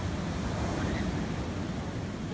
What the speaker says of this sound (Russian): волны сильные